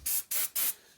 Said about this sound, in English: Just spray it down a little bit.